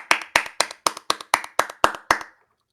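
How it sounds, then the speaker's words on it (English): About nine sharp hand claps land right up close to a microphone in a quick, even rhythm, loud and dry, then stop. "We're just getting applauses"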